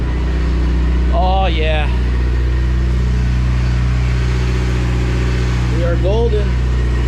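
A Mitsubishi Evo X MR engine idles steadily on its first start, a constant low drone filling the background while someone speaks briefly over it twice.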